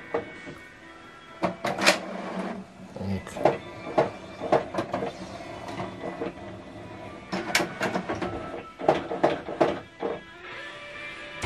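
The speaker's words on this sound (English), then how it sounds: "so right now it's switching this printer on." HP DeskJet 2721e wireless inkjet printer powering on, giving a series of mechanical clunks, whirs and short carriage movements in irregular bursts, close and fairly quiet, with a person talking at times.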